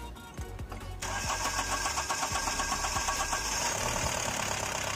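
A Mahindra Scorpio S2 pickup diesel engine, with its fuel return pipe just refitted after a vibration problem, cranks briefly, then catches and settles into a steady, rhythmic idle heard up close.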